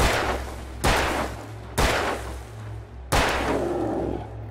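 Gunshots in the game Alan Wake, three or four loud, evenly spaced blasts about a second apart, each with a long echoing decay over a low background hum, with no talking.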